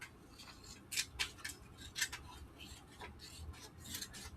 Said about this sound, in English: I'm gonna go ahead and cut these off, these edges.